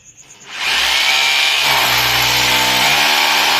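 A power drill boring a hole during home electrical work: near silence, then a sudden loud, steady whine that runs for about three seconds, its pitch dipping slightly as the bit bites.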